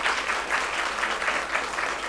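Audience at a music concert applauding, an even wash of many hands clapping at moderate volume, steady and sustained without voices on top.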